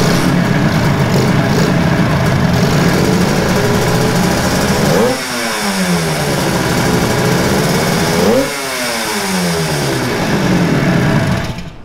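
A Suzuki GT185 two-stroke parallel-twin motorcycle engine runs loud and close, blipped to high revs twice with crackling rises and falls between a raspy, buzzing idle; no voices.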